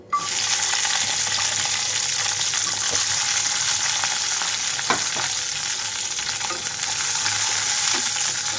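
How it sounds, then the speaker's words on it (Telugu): Green chillies and ginger fry in a pan of oil for a coconut tomato chutney, a loud, continuous close sizzle with occasional stirring clicks and small pops. "పచ్చిమిరపకాయలతో పాటుగా కొంచెం వేగనివ్వాలి."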